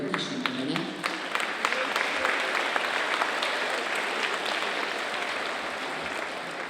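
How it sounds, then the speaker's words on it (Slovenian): Audience in a hall at a folklore group festival breaks into sustained, dense applause that stays loud and even from start to finish, with some voices mixed in. "do zadnjega vsem zaploskajmo z užitkom"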